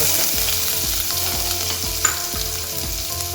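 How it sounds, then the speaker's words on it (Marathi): Steady sizzling of onion frying in hot oil for a tempering, with rhythmic stirring scrapes repeating under the crackle; close and continuous, no voices. "त्याच तेलात आपण फोडणीचो कांदो घालतो"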